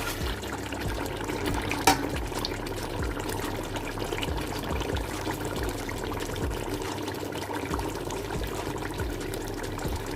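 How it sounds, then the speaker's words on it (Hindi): Water pours steadily and continuously into a cooking pot of chicken for about ten seconds, a fairly even gush with a brief clink near the start. "तो अब हम इसमें पानी ऐड करेंगे।"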